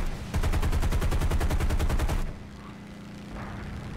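Aircraft machine guns rattle in War Thunder, a loud rapid burst of evenly spaced shots for about two seconds that cuts off abruptly, leaving a quieter engine drone.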